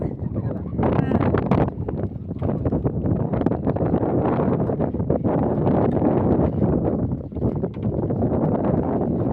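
Strong wind roars across an outdoor microphone in heavy, continuous buffeting gusts that hardly let up, with a voice partly buried underneath.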